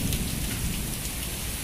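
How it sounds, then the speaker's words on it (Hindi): Heavy rain pours steadily in Makkah with thunder rumbling low beneath it, a dense, continuous hiss that fills the space, heard from a moderate distance with no voices. "ये देख लीजिए कितनी तेज़ बारिश हो रही है"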